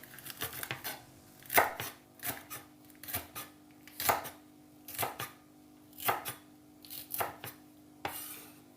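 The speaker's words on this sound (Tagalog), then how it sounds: "ganito lang guys, ang paghiwa ng green chili" A knife chops green chili into small pieces, a close series of sharp, irregular cuts, roughly a dozen strokes spread over several seconds with short pauses between them and no talking.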